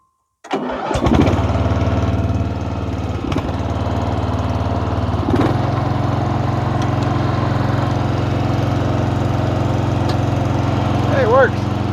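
An MTD riding mower engine fires up and settles into a loud, steady running drone, continuing close and unbroken with a couple of brief knocks along the way.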